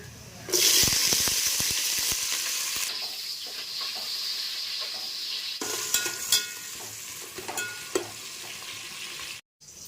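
Green chillies, onion and tomato hit hot ghee with a loud sudden sizzle that settles into steady frying hiss, with stirring scrapes and clatters near the pan for biryani cooking.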